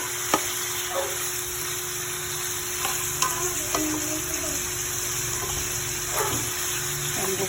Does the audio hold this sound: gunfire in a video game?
no